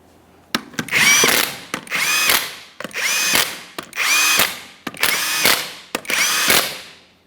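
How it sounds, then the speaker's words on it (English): A power tool spins 21mm lug nuts down onto a Ford F-150 rear wheel in six separate bursts, each a loud, close whirring run of about a second with a hard start and a short gap between, no talk. "start on all 6 of your 21mm lug nuts and we'll bottom them out"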